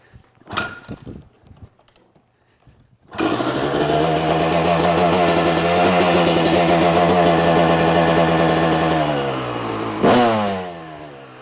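After a few scuffs and knocks, a two-stroke dirt bike engine with a freshly rebuilt top end starts and runs with a loud, buzzing, rattly idle, revving briefly near the end.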